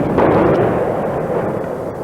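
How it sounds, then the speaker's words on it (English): Artillery shell fire during the bombardment of Grozny, Chechnya, a dense continuous rumbling roar with a few sharper cracks, loud and sustained without any voices. "Under the shell fire,"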